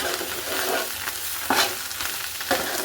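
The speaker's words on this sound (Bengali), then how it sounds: "মাংসটা কিন্তু আমার তেল আর পাঁচফোড়নের সাথে ভাজা হয়ে গিয়েছে।" Beef pieces sizzle steadily in hot oil with turmeric, chili powder, panch phoron powder, mustard powder and chili flakes for a beef pickle, with a spoon scraping and stirring the pan in periodic strokes.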